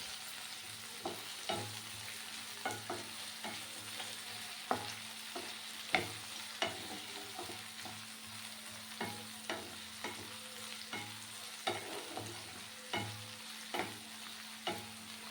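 Onion, garlic, black cumin and green chili stir-fry in a pan, a soft steady sizzle broken by regular scraping strokes of a spatula every second or so.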